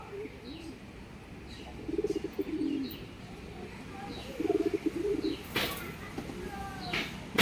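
Chennai Madras breed pigeons coo in two short rolling bursts close by, with a few faint chirps, light rustling and a brief sharp clatter near the end.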